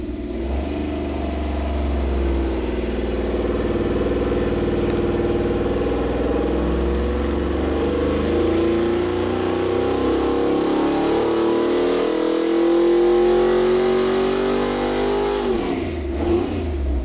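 HorsePower 427 LSX V8 engine running on its own, close and loud, idling with a deep rumble before revving up in a long climb and dropping back down near the end.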